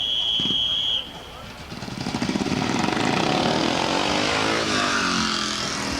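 A speedway motorcycle at the Calaveras Fairgrounds races past, its engine building from about two seconds into a loud, sustained roar that fills the rest of the clip, with a brief high tone at the start.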